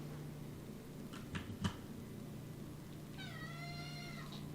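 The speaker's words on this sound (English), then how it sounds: "Shut up, kitty." A house cat gives one drawn-out meow near the end, close and fairly clear, against a quiet room hum with a couple of soft knocks just before.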